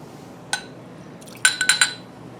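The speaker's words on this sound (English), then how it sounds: "I'm going to add 25 milliliters of deionized water" Glassware clinks, one sharp tap and then a quick run of several ringing knocks, as deionized water is added to a solution in a lab stoichiometry setup. The sounds are close and fairly faint over quiet room tone, with no talking.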